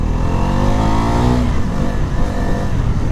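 A Bajaj NS400Z motorcycle revs hard as the throttle is pulled, its engine note climbing in pitch over the first second and a half and then roaring on loudly and roughly, recorded close with wind buffeting.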